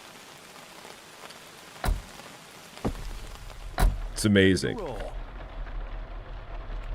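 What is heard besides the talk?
rain falling in Outbound video game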